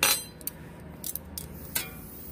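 A Hungarian metal mess kit cutlery set with knife, fork, spoon and separate can opener is handled, giving a few scattered light metallic clinks and taps, a sharper clatter at the start, then quieter.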